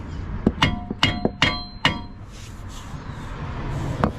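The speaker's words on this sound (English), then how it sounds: "Take that sledge, hit the knuckle" A sledgehammer strikes the steering knuckle of a Dodge Charger during lower control arm replacement, a quick series of about six sharp metallic clanks followed by a quieter pause and one more hit.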